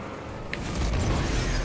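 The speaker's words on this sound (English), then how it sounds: "I thought the explosion was behind me." A low, rumbling explosion in Grand Theft Auto 5 swells up after a brief pop and holds as a heavy, sustained boom with debris-like crackle, loud and close, with no talking over it.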